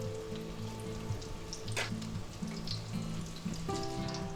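Eggplant slices frying in hot oil until golden and crispy, a steady close sizzle and crackle that runs throughout, with a faint low hum in the background.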